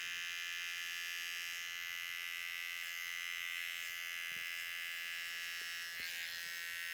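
Electric hair trimmer running steadily during a transformation haircut, a continuous close buzzing hum throughout with a few faint clicks and brief contact sounds against hair, no talking.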